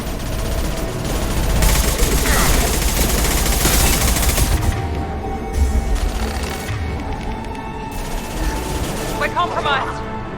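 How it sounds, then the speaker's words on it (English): Gunfire in the video game Mass Effect 2 Legendary Edition, sustained bursts of rapid weapon fire with a loud, dense rattle, then scattered shots, with voices talking over the combat. "Firing now."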